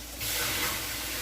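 Steam hissing from a water pan in a bread oven, a steady loud broadband hiss that starts abruptly and keeps going alone for about a second.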